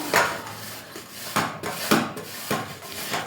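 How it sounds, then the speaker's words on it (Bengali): Palm jaggery (patali gur) scraped on a hand grater, with about five rough rasping strokes at an even rhythm, close and fairly loud, and no talking. "আমি পাটিগুলি দিচ্ছি এই যে গ্রেটারের সাহায্যে গ্রেট করে নিচ্ছি"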